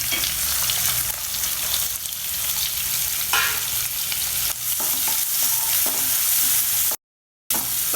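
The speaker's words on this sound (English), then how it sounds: "Fry everything together for a couple of minutes" Chopped onion sizzles steadily in a pan with cumin seeds and hing, a loud continuous frying crackle with stirring scrapes throughout and a brief gap near the end.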